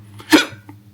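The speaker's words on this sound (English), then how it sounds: "Hopefully I don't have hiccups tomorrow" A single short, sharp hiccup from a person, close and clear against near silence, followed by a faint catch of breath.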